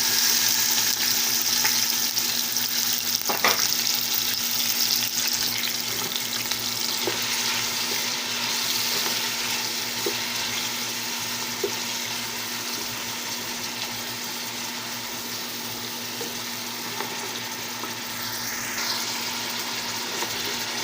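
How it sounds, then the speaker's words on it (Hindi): Three large chopped onions frying in hot oil for a chicken curry, a steady loud sizzle with occasional stirring scrapes and clinks throughout. "ऑयल हमारा गर्म हो चुका है। इसमें शामिल करेंगे 3 अदद बड़ा प्याज काटा हुआ"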